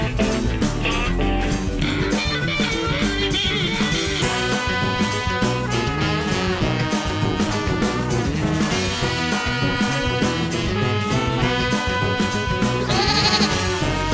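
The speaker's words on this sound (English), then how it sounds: "The billy goat." A billy goat bleats, its calls blended with steady, full background music that plays continuously and fairly loudly throughout.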